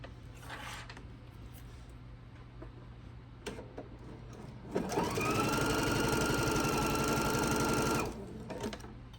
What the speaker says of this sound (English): I'm going to stitch it first, sorry. A scant 1/4 of an inch down this side